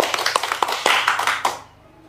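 An audience claps their hands at a religious gathering, a short patter of separate slaps for about a second and a half before it fades out, with no talk over it.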